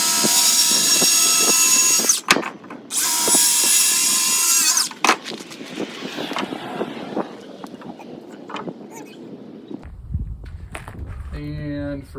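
A power drill drives screws into wood while building heavy-duty sawhorses, two loud whirring bursts up close, followed by clatter and handling knocks as a person talks.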